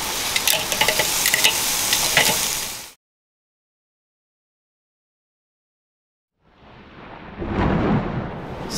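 Bacon-wrapped wild turkey breast sears in a hot pan with a loud, dense sizzle that stops abruptly for several seconds, then returns more softly and builds again.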